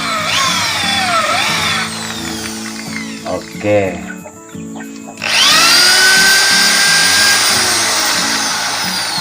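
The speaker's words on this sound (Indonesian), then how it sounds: "saya pakai bor 6 mili" A 6 mm drill bit bores into a custom fishing rod, giving a loud, steady power-drill whine that stops briefly for a short spoken word and then starts again, running high and continuous to the end.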